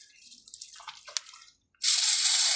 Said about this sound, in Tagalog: Binuhusan ng tubig, oh.